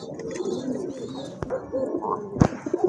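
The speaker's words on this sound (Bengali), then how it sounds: "আরেক জোড়া কবুতর, বোম্বাই কবুতর" Bombay pigeons coo softly nearby in low, rolling murmurs, with a couple of sharp knocks or wing flaps breaking through.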